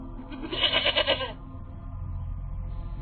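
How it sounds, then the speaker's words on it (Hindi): A goat bleats once, a loud wavering cry lasting under a second, inside a haunted house in a Hindi story, followed by a low steady rumble. "अपनी बकरी की आवाज सुनकर ठिठक कर रुक जाता है"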